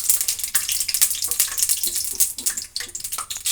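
Mustard seeds and green chillies hitting hot oil for a wedding-style vangi bath gojju, crackling and spitting in sharp close bursts over a steady hiss, no talking.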